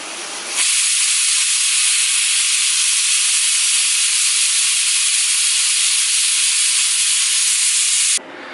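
A pressure cooker holding bottle gourd lets out a strong, steady hiss of escaping steam for several seconds. It starts abruptly, holds at an even level, then cuts off sharply.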